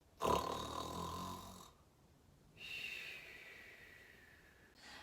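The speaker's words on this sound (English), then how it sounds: "Santa Claus fast asleep and couldn't help but giggle at his snoring" Two loud, rattling snores, each a long drawn-out breath, separated by a quiet pause, with the start of a third at the end.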